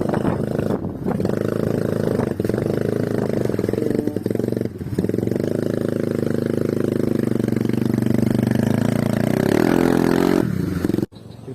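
A motorcycle engine labors loudly and steadily on a muddy village road, its drone holding near and continuous for the whole stretch before cutting off abruptly near the end.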